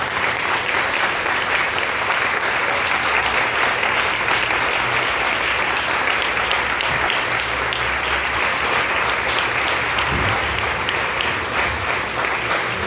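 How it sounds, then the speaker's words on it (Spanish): A large church congregation, standing, applauds steadily and loudly throughout, a continuous wash of many hands clapping with no pause. "Póngase de pie y le da un aplauso grande al Señor."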